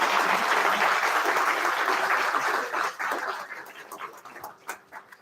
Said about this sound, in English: Round of applause, Anastasiia.